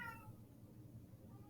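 A cat gives one brief, faint meow at the very start, alone against a quiet room background.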